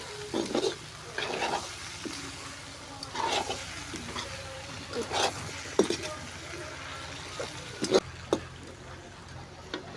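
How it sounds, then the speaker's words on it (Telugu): Chicken curry with masala being stirred in a large pot over a wood-fired stove, with repeated scraping and sizzling strokes in uneven bursts close by, under a voice that talks throughout. "ఈ విధంగా ఒక ఫైవ్ మినిట్స్ వరకు మనం దీనిని కలబెడుతూ ఉండాలి"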